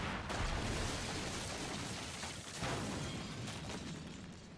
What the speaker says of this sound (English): If you see a building catch fire like this, be sure to hop out as it is about to collapse.